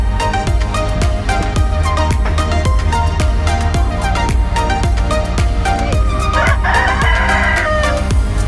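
Hens cluck and a rooster crows inside a chicken coop, loud and close, with the crow rising near the end over a dense, steady, rhythmic background.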